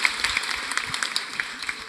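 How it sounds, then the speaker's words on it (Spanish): Audience applause, a brief patter of scattered clapping, moderately loud and near, lasting a couple of seconds. "Un aplauso para los de OV7 que está aquí una representante"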